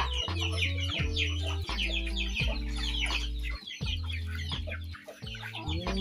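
Several chickens cluck busily and close by, with steady low farmyard hum underneath and bursts of bird chatter throughout.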